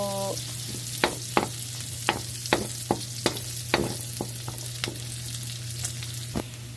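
Sautéed bottle gourd fries in a pan, a steady sizzle under a low hum, while a utensil strikes and scrapes the pan in about a dozen sharp, evenly spaced taps, close up with no talking.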